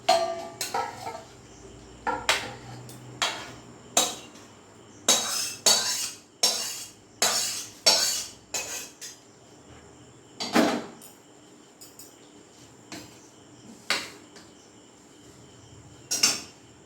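Metal utensils and a cooking pot of mixed vegetables clatter as the pot is lifted off a gas stove, a string of sharp clinks and knocks in bursts, with no talking.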